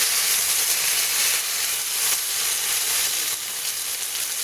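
An ostrich steak sears in a lidded pan with a steady, close hiss and sizzle that runs without a break and without voices.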